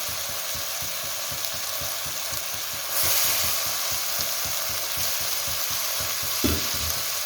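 Chopped eggplant and potato sizzle and fry in a hot pan for a Kovai-style brinjal and tomato side dish, a steady loud hiss with rhythmic stirring scrapes, swelling briefly louder as the vegetables go in, with no talk.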